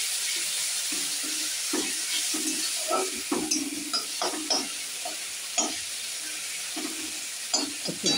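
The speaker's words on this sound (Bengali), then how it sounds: "একটু ভাজা হোক।" A spice paste of tomato, ginger, coriander-cumin powder, chilli powder and turmeric frying in oil: a soft continuous sizzle broken by repeated stirring scrapes of a spoon in the pan, close and quiet, with no talk.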